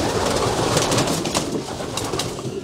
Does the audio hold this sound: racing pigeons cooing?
yes